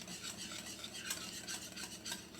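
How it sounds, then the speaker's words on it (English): A whisk works through chocolate and butter icing in a bowl, giving a steady scraping, swishing rhythm that sounds close and even, with faint clinks against the bowl's side. "So just whisk it until the butter is completely blended in"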